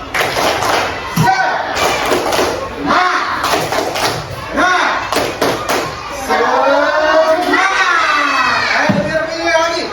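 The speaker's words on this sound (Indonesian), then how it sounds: "Kita ice breaking dulu ya. Baik, tepuk semangat." Classroom of students doing the 'tepuk semangat' spirit clap, loud rhythmic group clapping and thumps with children shouting and chanting over it, close and energetic throughout.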